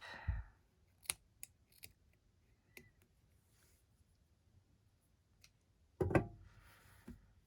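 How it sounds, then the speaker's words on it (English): Scissors snipping a yarn end during knitting, a few quiet sharp clicks and snips spread apart, with a louder rustle near the end. "This one I'm just gonna snip."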